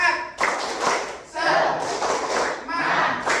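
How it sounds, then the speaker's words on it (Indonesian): Students at a junior high school counseling session doing the 'tepuk semangat' rhythmic clap, with bursts of patterned group clapping mixed with children's chanted voices, loud and close. "Kita tepuk semangat dulu ya, tepuk semangat gitu ya."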